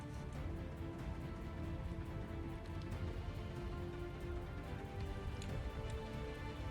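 Rain weather in a video game map patters steadily, soft and continuous, with faint droplet ticks scattered throughout and no talking.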